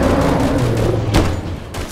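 Loud, dense gunfire from the video game Bigfoot fills two seconds as a continuous rumbling barrage with one sharper shot near the middle, close and alone without talk.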